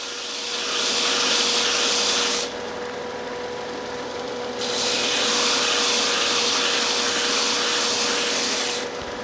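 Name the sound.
sanding a painted wooden napkin holder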